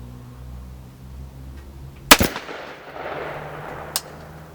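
A 300 Blackout rifle fires factory ammunition outdoors, giving one sharp, loud report followed by a fainter second crack about two seconds later.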